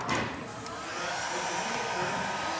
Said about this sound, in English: after this is heated, use the heat gun